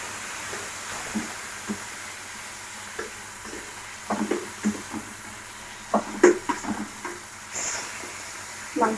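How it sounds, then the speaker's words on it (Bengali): Marinated meat frying in a little oil in a pan, a steady low sizzle broken by clinks and scrapes of stirring, close and moderately loud with no talk. "মাংসটা আমরা ভালো করে ভেজে নেব।"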